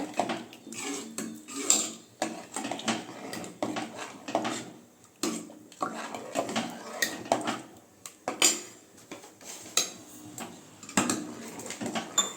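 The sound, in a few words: stirring moong dal payasam in a pot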